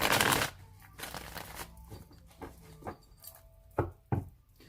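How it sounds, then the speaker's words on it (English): A deck of tarot cards is shuffled by hand: a riffling burst at the start, then softer rustles and a few sharp snaps of cards being squared. "I'm going to shuffle it 3 more times."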